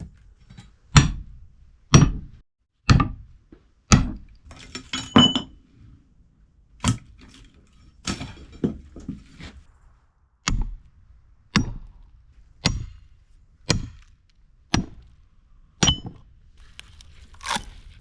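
Wooden shingles split by hand from a timber section with a froe or wedge: a steady series of about fifteen sharp, loud knocks and cracks, roughly one a second, close up with no voices.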